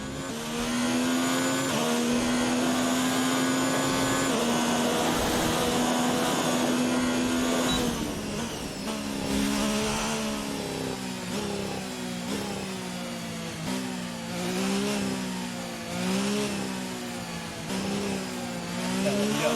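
A Formula 1 racing car engine in the F1 2019 video game drives out onto the Shanghai International circuit, a loud steady whine that then rises and falls repeatedly through gear changes and corners, with no talk.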